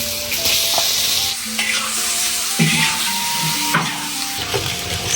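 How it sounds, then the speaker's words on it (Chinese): Fatty chicken being stir-fried with salt in a wok, a steady close sizzle with repeated scraping and stirring clatter throughout, rural Yunnan outdoor cooking, no talking. "这种肥肉鸡，鸡嘎嘎炒的呀"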